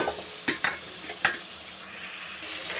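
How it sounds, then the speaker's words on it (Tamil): Bottle gourd pieces sizzle in oil in a pan for a Tamil-style kuzhambu, with a few sharp spoon clinks against the vessel over a soft, steady frying hiss, close by, no voices. "இப்போ வந்து சுரக்காவை சேர்த்துக்கிறலாம் சுரக்காவும் நல்லா வதங்கி வரட்டும்"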